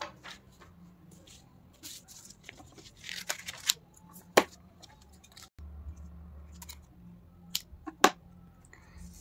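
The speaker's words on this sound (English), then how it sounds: "Now we are going to cut two more hearts." Scissors snip through paper while cutting out heart shapes for a pop-up greeting card. Crisp, scattered cuts and crinkles sound close and fairly quiet, separated by short pauses.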